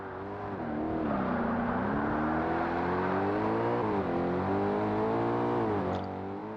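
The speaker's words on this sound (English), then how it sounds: "he's lighting up the tires on that Viper" A Viper race car in the game Forza Motorsport spins its tires while the engine drones steadily, its pitch rising and dipping with a sustained whirring, tire-spinning roar, with no talk.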